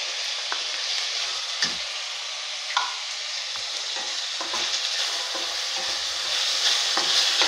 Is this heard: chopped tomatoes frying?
yes